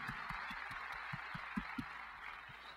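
A church audience at a mission conference gives a round of thankful applause, a steady, fairly distant wash of many hands clapping with a few heavier thumps, continuing for several seconds.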